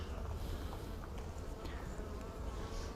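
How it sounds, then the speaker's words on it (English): Honey bees buzzing around an opened Flow Hive as they are shaken off the frames, a dense, continuous hum of many insects close by with no talking. "We're shaking the bees off."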